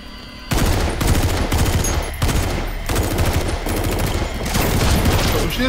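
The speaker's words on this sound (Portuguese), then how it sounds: "Os tiros nem estão a fazer efeito" Rapid automatic gunfire from the video game Metal Gear Solid V, dense bursts of shots rattling almost continuously after a brief quiet start, loud and close with short breaks between volleys.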